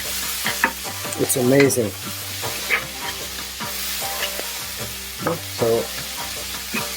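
Chilies frying and sizzling in a pan for a beef curry, with a steady sizzle and intermittent stirring scrapes and clatters throughout, plus a brief spoken remark over the cooking.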